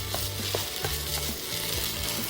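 Plant-based casserole filling sizzles and fries in a pan, a steady close crackle with soft scraping stirs throughout.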